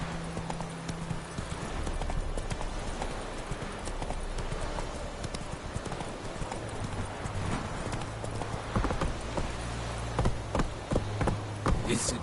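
Hooves of Roach, the horse in The Witcher 3, clip-clop in a fast steady gallop, close and continuous, with faint speech-like sounds mixed in.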